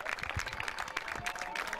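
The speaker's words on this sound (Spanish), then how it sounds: "Y si me permiten, yo también voy a aplaudir" Applause from spectators at the end of a final between Espartanos and Groots, a steady patter of many hands clapping at moderate distance.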